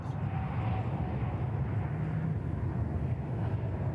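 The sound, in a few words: Qantas airliner landing on runway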